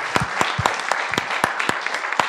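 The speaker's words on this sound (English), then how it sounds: "Can we give our panelists another round of applause?" Audience applause for panelists at a discussion on reparations, fairly sparse clapping with distinct individual claps heard close up over a soft background.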